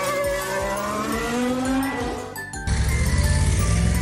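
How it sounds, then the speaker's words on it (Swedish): A Formula 1 racing car roars past with a high, shifting engine whine, then the pitch drops and a dense, rough engine growl takes over, loud and close. "Formel 1-bil."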